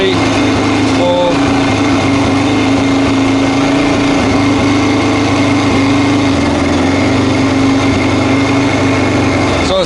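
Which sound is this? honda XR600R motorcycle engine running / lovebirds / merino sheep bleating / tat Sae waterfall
honda XR600R motorcycle engine running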